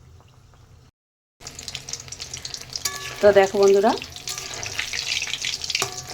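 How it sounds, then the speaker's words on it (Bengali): Mung dal puli frying in white oil on a stove, a steady crackling sizzle with a louder burst of bubbling midway as pieces go in or are turned, while a person speaks briefly at the start. "ওভেনে এখন একটু সাদা তেল বসিয়ে দিয়েছি আর এখানে অল্প আছে এগুলো ভেজে নেব অল্প অল্প করে"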